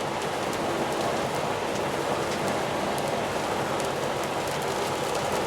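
Rain hits a moving car while driving on a highway, a steady dense hiss with a low road rumble beneath it, continuous and even, with no talking.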